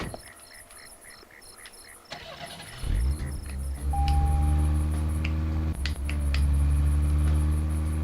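A car engine in the video game Deadly Premonition Origins starts up and settles into a steady low rumble, with clicks and a thin high electronic tone over it; loud and close.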